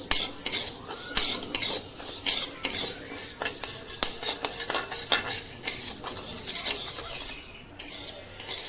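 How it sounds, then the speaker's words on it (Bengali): Mung and masoor lentils are stirred in a pan with a utensil, giving repeated scraping and clinking strokes with a faint sizzle underneath, close and steady throughout. "ভালো করে নেড়ে নেব ডালগুলো।"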